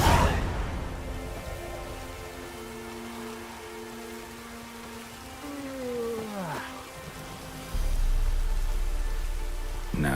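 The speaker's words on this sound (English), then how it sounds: "Looks like rain." Rain falls in The Witcher 3 as a steady, soft hiss over a low droning ambience, with a sliding tonal swoop midway and a heavier rumble near the end.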